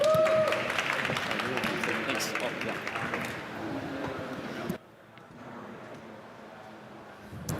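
Audience applause at a conference talk on Ethereum development, moderate clapping that fades and cuts off abruptly midway, leaving quiet room noise.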